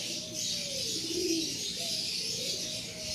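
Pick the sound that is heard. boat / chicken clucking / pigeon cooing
pigeon cooing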